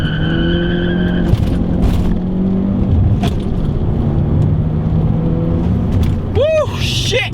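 A 2013 Ford Focus ST with a turbocharged inline-four accelerates hard, its engine drone rising steadily and loud from inside the cabin, with a rising whine near the end and a voice speaking over it.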